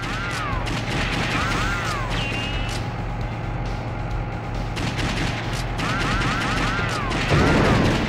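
Light-gun shots ring out in Virtua Cop 2 on the PS2 with a G-Con2, as a few sharp cracks over steady, loud game music and background noise.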